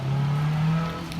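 A car hums steadily past on a dusty street strewn with sheetrock debris after Hurricane Harvey in Houston, a low engine drone holding level for about a second before fading slightly.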